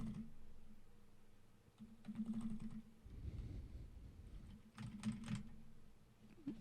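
Mechanical keyboard keys clatter in quick irregular bursts after Coke was spilled into it, the typing close and fairly quiet with pauses between flurries.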